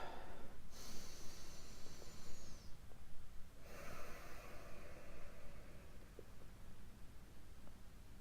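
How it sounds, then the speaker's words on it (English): Slow, deep breaths during seated meditation: quiet, airy inhales and exhales with soft nasal snorting at close range over faint background hiss. "Let's take a few deep breaths."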